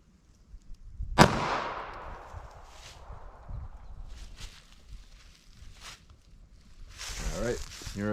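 A single sharp .380 ACP gunshot from a Speer Gold Dot round cracks loudly and echoes away, followed by quiet shuffling and a voice speaking.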